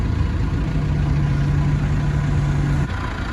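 Massey Ferguson tractor engine idling close by, a steady low rumble with a constant tone that drops away just before the end.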